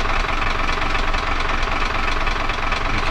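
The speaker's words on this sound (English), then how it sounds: "The engines have been started." Diesel engines idling aboard a U-boat in a submarine simulator video game, a loud, steady low rumble with a knocking mechanical texture running unbroken throughout, no talking.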